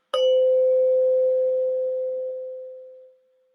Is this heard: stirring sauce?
no